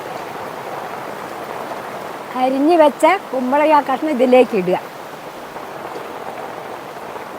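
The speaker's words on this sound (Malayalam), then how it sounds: "പുറത്ത് നല്ല മഴയാണ്, കുറച്ച് സൗണ്ട് പ്രശ്നം ഉണ്ടാവും" Steady hiss of heavy rain outside runs throughout, with a person speaking briefly over it in the middle.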